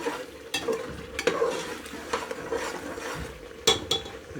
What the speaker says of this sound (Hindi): इसको उस वक्त तक भूनेंगे जब तक मसाला ऑयल नहीं छोड़ देता।